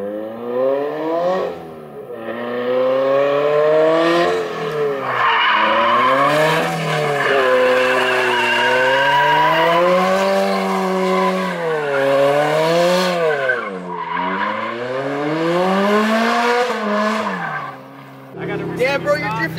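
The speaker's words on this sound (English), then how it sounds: "Damn, bro, you're drifting on 3 lugs." A car drifting and spinning donuts at a street gathering, its engine revving hard while the tires squeal in long rising and falling wails, loud and close, with voices now and then under the noise.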